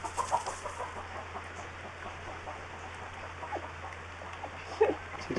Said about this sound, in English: Did you just get scared by a chicken?